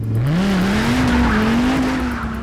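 A 2015 Dodge Viper SRT with an 8.4 liter V10 engine drives by at speed, a loud, steady engine drone whose pitch climbs slightly and holds throughout, with no voices.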